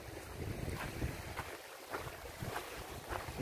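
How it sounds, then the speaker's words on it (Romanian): Strong wind gusts across the open mountain landscape of Poiana Mărului in Caraș-Severin, roaring steadily into the microphone with rushing, buffeting bursts and no voices. "vântul suflă cu o putere destul de mare"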